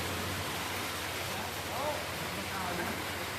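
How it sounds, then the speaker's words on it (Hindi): Evening rain just beginning, a steady, even hiss of falling drops that stays constant throughout with no clear breaks. "तो भैया शाम की टाइम भैया होने लगी थी बारिश।"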